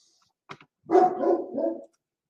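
Dog barking indoors, a couple of quick yips followed by a longer, loud, drawn-out bark-howl, close by, with no talk.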